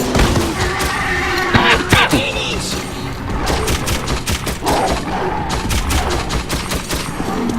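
Dense gunfire in the shooter game Metro 2033, rapid loud shots and thuds layered over each other with no break, and a voice briefly shouting under the barrage.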